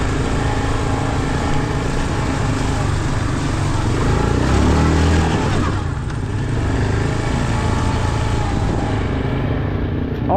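A 2024 Yamaha Kodiak 450 ATV creeps slowly over rocks, its engine a loud, continuous close drone that swells slightly midway with load, and faint rustling and jolts underneath.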